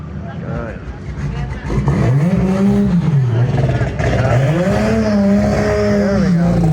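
A turbocharged car engine revs hard at a drag racing event in Angeles City, close and loud, its pitch climbing and falling in repeated swells over a steady rumble.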